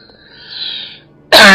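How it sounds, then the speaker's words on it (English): A man's single harsh cough bursts out loud and close after a brief, faint whistling tone. "Bloody terrible cough of mine."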